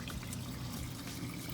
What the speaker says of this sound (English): I'm just gonna remove the hot water like that.